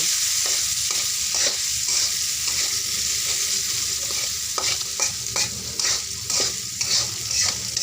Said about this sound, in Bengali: আলুটা এখন ছেড়ে দিলাম আলুটা সুন্দরভাবে মজুর করে নেব